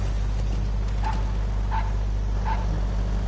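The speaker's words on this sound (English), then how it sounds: "Oh, I hear a dog." A dog barks in Metal Gear Solid 5: The Phantom Pain, three faint, spaced yips at a distance over a loud, steady low hum.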